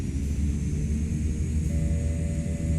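Propeller engines of a CL-415 water bomber in Microsoft Flight Simulator 2024 drone steadily with a deep rumbling hum, holding loud and constant while the pitch edges upward as the props spool.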